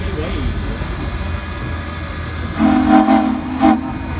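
Steam locomotive 630 at a turntable demonstration, with a steady low rumble and background hiss, then two loud whistle blasts, a longer one followed by a short one near the end.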